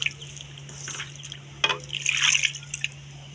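Water is poured into a vegetable dal mixture, giving soft splashes and drips over a low steady hum, close and fairly quiet, ending in a brighter trickling burst.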